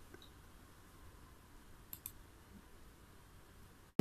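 A computer mouse gives a quick double click, faint and close, over a quiet room hum, with one louder knock at the end.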